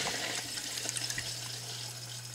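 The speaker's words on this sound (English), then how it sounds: "Okay, so I got her turning the water on." Water rushes steadily into pipes during a bladder tank replacement, with a constant hiss and a low hum underneath, no voices.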